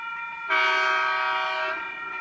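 Sydney Trains Oscar set sounding its horn while approaching a station, a single loud sustained two-second horn blast with rich harmonic tones, alone against quiet ambient background.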